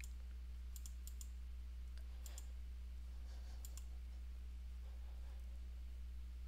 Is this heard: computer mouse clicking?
yes